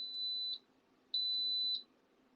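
An electric pressure cooker making red bean chili gives two steady high beeps, each about half a second long, clear and close in a quiet room.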